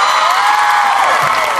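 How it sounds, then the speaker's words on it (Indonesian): A fan meeting crowd in Jakarta cheers and claps loudly, with high-pitched screams and whoops riding over a dense wash of applause for the whole brief moment. "boleh tepuk tangan buat Lee Min Ho"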